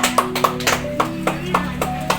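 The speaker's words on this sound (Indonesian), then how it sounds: "tepuk tangan" A small group claps hands at an anti-corruption education session, a steady run of sharp, evenly spaced claps over a low background hum.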